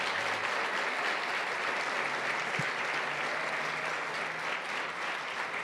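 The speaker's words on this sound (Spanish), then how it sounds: "¿Por qué no le damos un aplauso al Señor?" A church congregation applauds steadily with a dense, even wash of clapping that holds throughout without a break.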